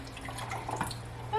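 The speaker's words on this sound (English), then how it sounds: "Let me pour some more off." Kombucha is poured from a jar in a home kitchen, with a faint trickle and a few soft drips of liquid over quiet room noise, ending in a brief louder splash.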